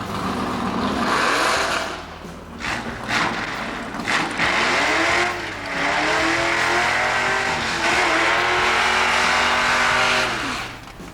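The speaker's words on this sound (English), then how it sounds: "The car really broke loose hard coming out of the hole, and then really spun hard in second gear down the middle of the track." A 1973 Plymouth Duster launches at a vintage drag strip test-and-tune day, engine roaring and rising through the gears while the tires break loose and spin, loud and sustained throughout.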